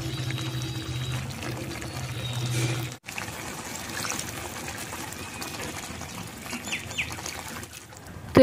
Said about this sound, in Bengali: এবার এতে অ্যাড করব জল।